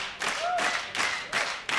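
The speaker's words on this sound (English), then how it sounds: "The ultimate battle as the crowd gets involved." A crowd at a League of Legends esports match in the EU LCS claps in rhythmic bursts, with cheering swelling under the clapping, fairly loud and diffuse, no talking.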